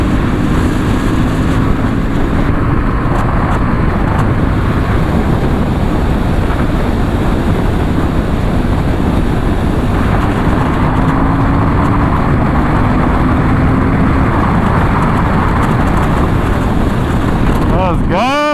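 A Honda CB750 Hornet streetfighter motorcycle on the move, with a steady, loud engine and wind roar that continues throughout. Voices talk over the ride.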